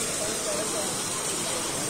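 A steady, broad rush of water pouring from a traditional stone water spout in Barpak, Gorkha, constant and fairly close with no breaks.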